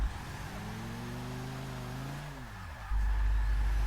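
A Ford Transit van's engine in the racing game Forza Motorsport 6 drones and revs while drifting, with gliding pitch sweeps that fall away before a loud low rumble takes over near the end.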